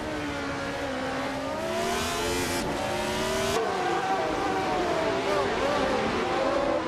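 Race cars, a Lotus 72C among them, scream through a racing video game, their engines rising and falling in pitch as they rev and shift gears, with tire squeal over a constant loud roar.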